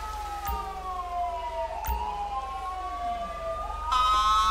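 A wailing siren sweeps up and down as an ambulance arrives in the GTA V LSPDFR police game, with brief clicks and a sharper electronic sound joining near the end.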